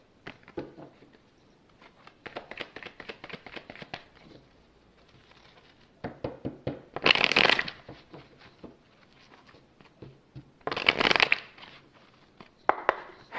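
An oracle card deck is handled and shuffled in bursts of quick papery riffling and tapping, with short louder crisp flurries between quieter gaps.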